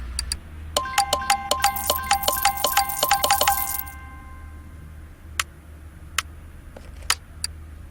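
Brake fluid is flushed in the game Car Mechanic Simulator 2018, heard as a rapid run of bright, chiming clicks for a few seconds, followed by a few sparse, sharp ticks against a low hum.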